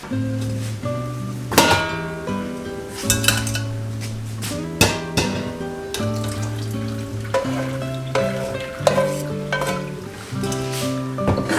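Ground beef fries in a skillet, cooked in batches, with a steady sizzle under repeated clinks and scrapes of a utensil against the pan, close and fairly loud with no talking.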